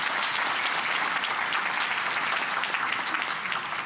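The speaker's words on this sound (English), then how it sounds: "y'all give him a round of applause even in his absence for the work that he did" An audience at a Columbus Rotary student service program breaks into applause, a thick, even roar of many hands clapping at close range, sustained without pause throughout.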